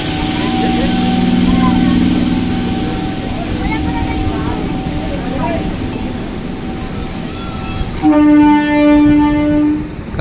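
A commuter train pulls out of Majerhat station with a loud, close rumble of engine and wheels, then sounds a long, sustained horn blast near the end.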